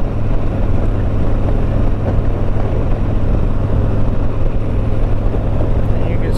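A Harley-Davidson Tri Glide Ultra three-wheeled motorcycle, 2021 model, riding at Hot Springs, Arkansas Bike Fest, gives a steady, loud, low engine drone with wind rush throughout, unbroken and close.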